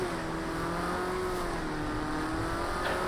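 A rally car engine in the racing game Project Cars 2, played in VR, drones steadily at high revs with a sustained whining tone that shifts slightly in pitch, loud and continuous throughout.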